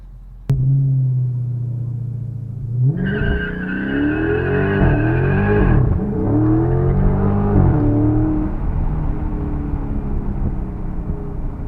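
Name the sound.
Scat car's tires spinning with traction control on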